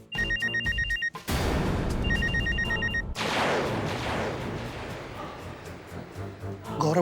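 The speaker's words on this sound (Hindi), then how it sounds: "गौरव का फोन है।" A telephone bell rings in two short bursts of trilling, separated by a brief gap, with background noise and music filling the rest.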